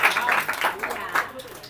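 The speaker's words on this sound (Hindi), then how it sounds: "ताली बजाओ जी" A class of schoolchildren claps for a student topping a maths test, scattered uneven hand claps in short bursts, fairly close and moderately loud, with some voices mixed in.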